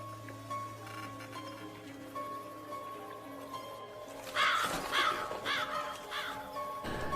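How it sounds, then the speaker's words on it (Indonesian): A crow caws in a cluster of harsh calls from bushes beside a lake, heard fairly close over a continuous low background hum and rustle. "mendengar suara aneh dari semak-semak, tapi untungnya itu hanya seekor burung gagak"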